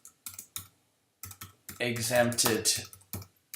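Computer keyboard keys clack in short, sporadic taps, close by, with a few presses before and after a stretch of speech.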